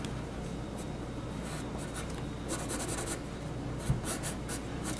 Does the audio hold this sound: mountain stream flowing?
no